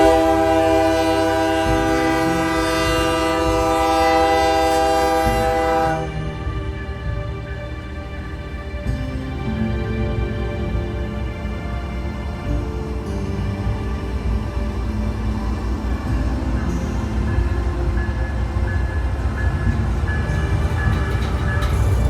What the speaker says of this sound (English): we were fortunate enough to get a train meet with M313 and Q107.